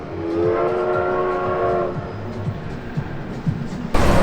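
A train sounds a sustained horn that fades after a couple of seconds, while rolling wheels keep up a rhythmic clickety-clack close by.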